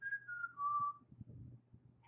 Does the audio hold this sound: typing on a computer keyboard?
no